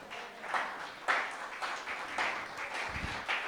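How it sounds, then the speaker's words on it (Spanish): A church congregation claps in a loose, rhythmic pattern, regular bursts of hand claps roughly every half second at moderate loudness, slightly distant. "Denle un aplauso al Señor."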